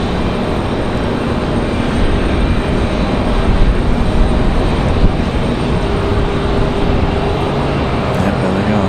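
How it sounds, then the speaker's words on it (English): Lufthansa airliner's jet engines idling and running steadily before departure at Raleigh-Durham International, a loud continuous roar and whine that holds level throughout with no break. "we'll have the departure of Lufthansa in just a moment"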